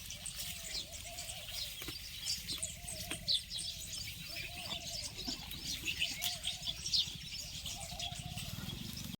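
Small birds chirp faintly and sporadically at a rural village home, mixed with a steady run of nearby livestock bleats repeating every second or so.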